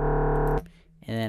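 Distorted synth bass patch from Bitwig Polymer with a comb filter, a loud buzzy harmonic-rich note sustained for about half a second, then a brief gap of faint residue before a second bright, metallic note enters.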